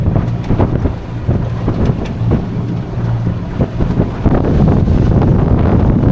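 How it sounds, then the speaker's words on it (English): Loud, strong wind of about 30 knots roars and buffets continuously around a sailboat with sails down, heavy rumbling gusts building toward the end. "we've got about 30 knots apparent wind speed. It is real windy."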